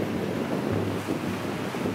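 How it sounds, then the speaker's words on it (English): Ocean surf washes against the shore at Ketchikan, Alaska, a continuous close roar of waves mixed with heavy wind buffeting, loud and steady with no speech. "It's really relaxing to just like listen to waves crash, like that rhythm"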